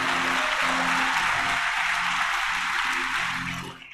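A church congregation applauds, a dense steady wash of clapping that holds loud and even for about three and a half seconds, then thins and fades at the end while faint low tones sit beneath.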